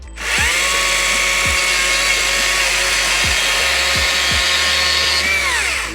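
A Stihl MSA 140 C battery chainsaw cuts through a 4x4 post, its motor starting abruptly and running as a loud, steady whine with slight pitch sags under load, stopping at the end.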